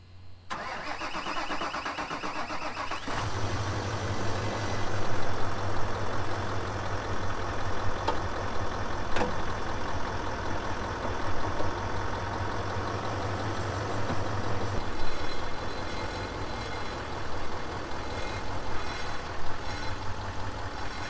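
Nissan Titan XD with a Cummins diesel engine starts with a cranking catch, then settles into a steady, close diesel idle that rumbles on without talk.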